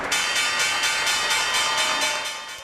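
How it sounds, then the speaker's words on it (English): A stock exchange opening bell rings loudly and continuously in rapid repeated strikes on a Christmas Eve morning, rung by Nutcracker cast members. No voices are heard. "some cast members from the Nutcracker rang the opening bell this morning"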